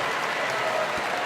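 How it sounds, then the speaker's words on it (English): Crowd applause in an NBA 2K24 video game arena during a Hawks versus Hornets game in Charlotte, a dense, steady wash of clapping from a large simulated audience. "One more round of applause for your Honeybees."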